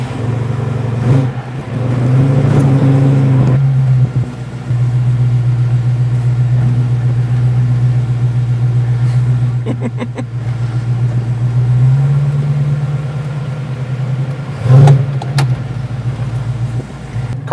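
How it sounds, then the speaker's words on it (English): A 1967 Mustang engine drones steadily while driving, with a low constant rumble that rises slightly in pitch partway through and a brief bump near the end. "Car drives pretty damn good."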